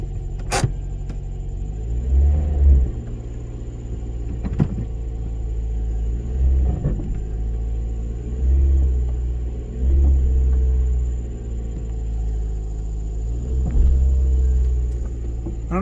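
A first-generation Scion xB engine with a solid rear engine mount idles steadily with a deep, low rumble and faint periodic surges, close and continuous, with no talking.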